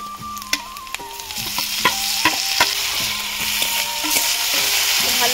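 Ginger, garlic and green chili frying with onion in hot oil, a steady close sizzle broken by repeated clinking stirs of a utensil against the pan, with no talking.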